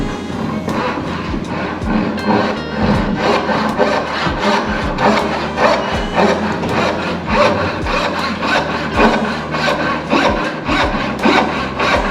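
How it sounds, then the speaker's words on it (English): A hand saw cuts dovetail pins in wood for a mitered-edge dovetail joint, making loud, close, evenly paced back-and-forth rasping strokes that continue without a break and without speech. "I cut out all my pins first."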